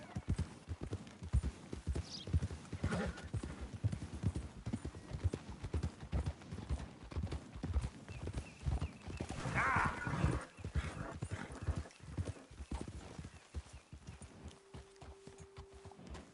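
Horse hooves clip-clop in a steady trotting rhythm throughout in the video game Red Dead Redemption 2, with a brief horse whinny midway and a faint dog bark in the mix.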